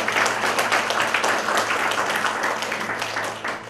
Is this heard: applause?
yes